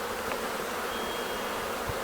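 Honey bees buzz around a hive fitted with a queen excluder grid in spring, a dense, continuous close-up drone with no voices.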